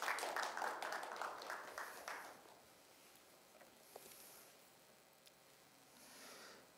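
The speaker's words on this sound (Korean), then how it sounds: "여러분 큰 박수 부탁드립니다." An audience at a university graduation ceremony applauds in a hall, a faint, dense patter of clapping that fades after about two seconds into quiet room noise.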